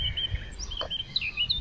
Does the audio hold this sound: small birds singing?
yes